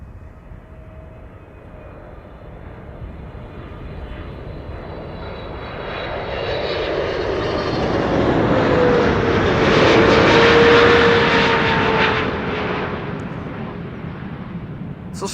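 An Emirates SkyCargo freighter passes by at Amsterdam Schiphol Airport on a sunny day. Its engine roar swells from a distant rumble to a loud, broad peak, then slowly fades, with no talking.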